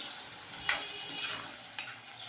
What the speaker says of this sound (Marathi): आता परतवत राहायचं आहे मोठ्या आचेवरती दोन तीन मिनटं तरी आपल्याला इथे हा बटाटा परतत राहायचा आहे